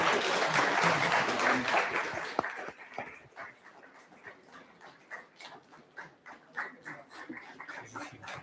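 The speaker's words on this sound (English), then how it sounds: "I request all the audience to please give a huge round of applause for them." Audience applause at a closing ceremony of a Buddhist retreat, loud dense clapping for about two and a half seconds, then thinning into scattered individual claps and small rustles as it fades.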